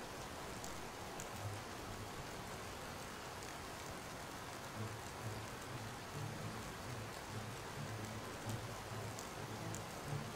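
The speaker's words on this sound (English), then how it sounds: "This rain is so annoying." Steady rainfall in the video game Mount and Blade Warband, a constant hiss of drops on the ground with no break, no talking over it.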